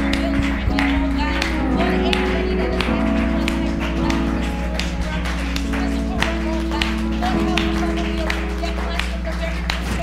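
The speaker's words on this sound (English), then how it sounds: "Clap your hands and begin to pray." Congregation clapping hands in rhythm during prayer at a church service led by a prophet, steady loud clapping with a sustained low musical drone and voices throughout.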